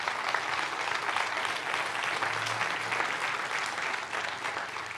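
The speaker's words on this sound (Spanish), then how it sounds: "Denle un fuerte aplauso a Dios por eso." A church congregation applauds steadily, a dense continuous wash of clapping from many hands that holds at an even level throughout.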